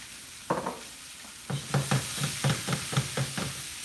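Onions cooking in a pan, a soft sizzle with a run of quick scraping stirs, about eight short strokes in a steady rhythm close by, with no talking.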